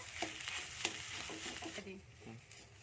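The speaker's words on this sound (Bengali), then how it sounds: "আলুটা দিয়ে ভালো করে এর সাথে মিশিয়ে নিচ্ছি মশলাটার সাথে" Grated potato stirred into fried spice masala in a hot pan, with a soft, steady sizzle and scraping stirring strokes close by.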